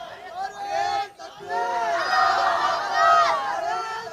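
A crowd at a political rally chanting the slogan Takbir Allahu Akbar: many voices call out together in loud, drawn-out shouts with a brief dip in the middle, the massed chant swelling and echoing.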